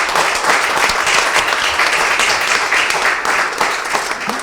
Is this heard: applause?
yes